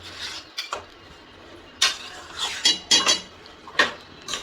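A metal spoon scrapes and clinks against a cooking pot as mutton curry ingredients are stirred together. The scrapes and knocks are close and irregular, with brief sharp strokes over a quiet background.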